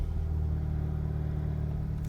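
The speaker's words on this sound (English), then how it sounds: "Just start the engine, see the mileage." A 2016 Honda Civic Type R with a 2.0 i-VTEC engine idles steadily after starting, a close, continuous low engine hum with no talk.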